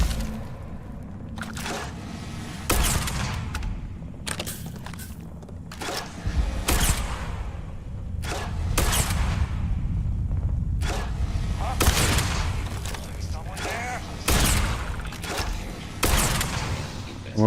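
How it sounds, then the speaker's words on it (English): Gunfire from a player shooting at rocks in the video game Starfield, a string of sharp bursts at irregular intervals over a steady low game background. "I'm over here shooting the rocks."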